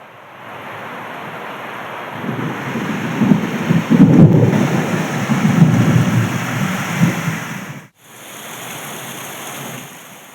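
Heavy monsoon rain pours steadily in Amravati while deep thunder rumbles swell and fade through the middle, ending in a brief dropout before the downpour continues.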